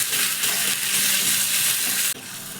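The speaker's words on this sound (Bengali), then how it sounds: "টমেটোটাকেও সঙ্গে একটু নাড়াচাড়া করে ভেজে নেব।" Two small chopped tomatoes stir-fried in a pan hiss in a loud, steady sizzle close up, with a brief break near the end as they are stirred.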